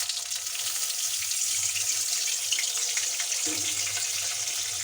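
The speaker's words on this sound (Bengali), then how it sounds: "হালকা একটু পানি দিয়ে নিই" Water poured into ginger, garlic, onion and cumin paste frying in a pan, a steady close rushing hiss with a low hum underneath, lasting throughout without talk.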